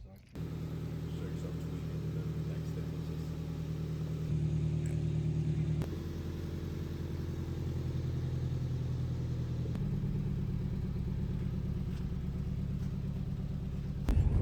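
A turbocharged NB car engine rumbles steadily up close, rising and easing a little as the car pulls away and keeps driving.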